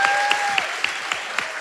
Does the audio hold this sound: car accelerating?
no